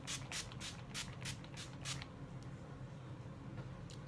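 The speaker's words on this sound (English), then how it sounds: "I'm going to finish it off with my finishing spray." Makeup setting spray misted onto a face, a run of about eight short, close hissing spritzes in quick rhythm, followed by quieter rustling and one more faint spritz at the end.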